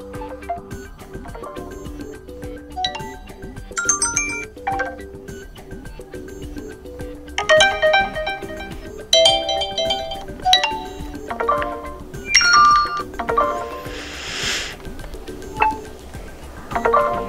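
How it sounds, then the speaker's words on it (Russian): A series of short notification tones previewed one after another on an OPPO Reno4 Pro smartphone, bright chimes, dings and melodic jingles separated by brief pauses and soft taps. "Также можем изменить сигнал уведомления."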